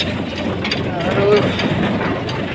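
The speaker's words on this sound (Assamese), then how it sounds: "মেচিন লৈ গৈ আছোঁ আমি এতিয়া মৰণা মাৰিবলৈ মেচিন মাৰিলোঁ।" A paddy threshing machine running outdoors during rice harvest, a loud continuous mechanical clatter with rattling gear and ratchet noise over a low engine hum, steady throughout at close range.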